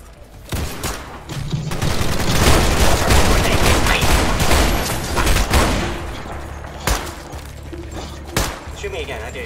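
Heavy bursts of gunfire in the Roblox game The Decaying Winter, loud and close with a sustained volley followed by scattered single shots, while players talk over it.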